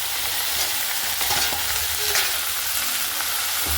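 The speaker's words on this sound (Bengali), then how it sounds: "এরপরে ডাঁটাগুলোকে এইভাবে খুব সুন্দর করে আমি নাড়াচাড়া করে নিচ্ছি। তো এখানে আমি একটু ভেজে নেব সবগুলোর সঙ্গেই।" Elephant foot yam stems sizzling in a hot pan while being stirred, a dense continuous frying hiss with scraping strokes of the spatula throughout.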